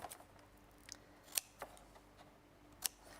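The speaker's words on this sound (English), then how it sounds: "So we're going to do the same there, so trim that one out" Scissors snip paper as a triangle is trimmed out for a craft tab, a few quiet, crisp cuts spaced irregularly over a few seconds with no talking.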